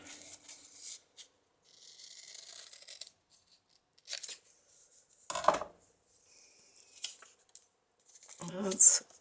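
A few short, crisp snips of scissors cutting paper, close by, separated by brief pauses with faint rustling.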